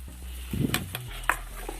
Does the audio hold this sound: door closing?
no